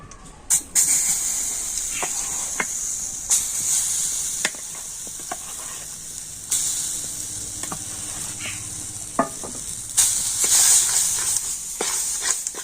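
A paste of ground coconut and nuts sizzles loudly in a frying pan for honeycomb pitha, with a constant hiss broken by sharp scraping clicks of a spoon as it is stirred, and nobody speaks.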